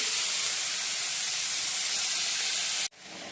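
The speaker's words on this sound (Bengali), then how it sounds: "বন্ধুরা সবজিগুলো আবার ভেজে নিচ্ছি" Vegetables sizzle in a hot pan for chow mein, a loud continuous hissing fry that holds steady, drops out briefly near the end, then resumes more quietly.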